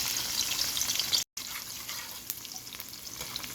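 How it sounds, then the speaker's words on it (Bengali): Chopped onion and garlic frying in a pan for home-style fried rice, giving a steady, close hiss of sizzling oil with a brief dropout partway through and no talking. "আমি অ্যাড করছি পেঁয়াজ আর রসুন কুচি"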